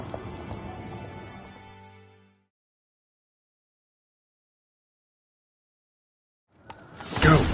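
Horses galloping in a video game scene, a burst of hoofbeats and motion fading out after two seconds, then silence, then a loud rush of hooves and impact returning at the end.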